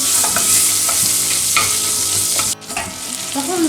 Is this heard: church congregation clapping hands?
no